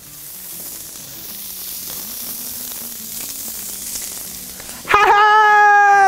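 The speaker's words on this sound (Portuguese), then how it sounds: "Eu gosto de começar a churrasquear gordura para baixo." Picanha beef grills fat side down over a barbecue, a steady broadband sizzle that slowly builds, then a loud tonal whistle-like sound abruptly joins it near the end.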